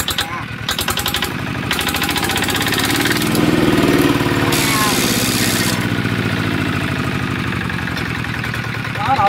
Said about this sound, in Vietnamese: Máy này tiếng mình ru.